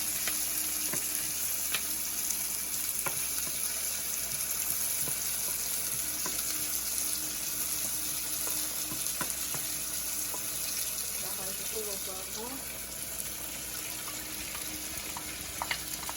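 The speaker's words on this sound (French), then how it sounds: "on va faire revenir les oignons pendant quelques minutes" Onions frying in oil in a pan, for a smoked and salted fish sauce with eggplant, keep up a constant close sizzle, with occasional light utensil ticks and a faint watery hiss; no voices.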